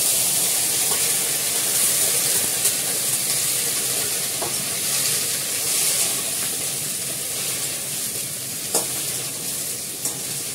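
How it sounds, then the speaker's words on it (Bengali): Raw chopped vegetables frying in a five-spice tempering, giving a steady, even sizzle with soft hiss and occasional faint stirring taps throughout, close by and with no voices. "ফোড়ন নিরামিষ তরকারিটা যেটা কাটা রয়েছে কাঁচা, সেটা দিয়ে দেবো।"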